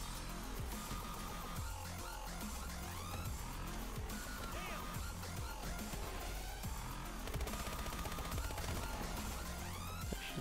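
Gunfire against zombies in Advanced Warfare Exo-Zombies: dense, continuous game audio with rapid shots and rattling bursts layered over a rumbling background, busy and steady throughout, with no talk heard.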